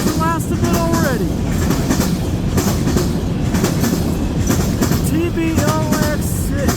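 CN freight cars roll past close by at the tail end of a train at Ladysmith, Wisconsin, with a loud, steady clickety-clack of wheels over rail joints and brief metallic wheel squeals rising through the rumble.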